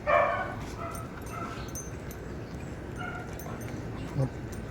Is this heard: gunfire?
no